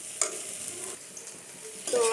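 Fried green plantains drop into a pan for a plantain, potato and eggplant lentil curry, giving a steady oily sizzle with stirring scrapes and louder bursts at the start and end.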